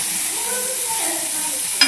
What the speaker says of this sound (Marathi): आता टोमॅटो भाजून घेते इकडं